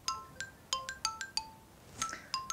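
A mobile phone rings with an incoming call, giving a rapid series of bright electronic tone pulses in a repeating melodic pattern. The ring is moderately faint over steady background noise.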